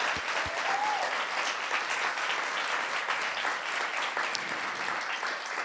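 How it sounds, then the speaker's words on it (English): A church or event audience gives sustained, even applause in honor of mothers at a Mother's Day gathering, loud and continuous throughout, with a brief whoop early on. "can we just give them a round of applause?"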